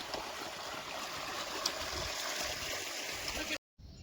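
Water rushes steadily from an opened irrigation valve on a farm, a continuous close hiss and gurgle of flow that cuts out abruptly near the end, then returns faintly.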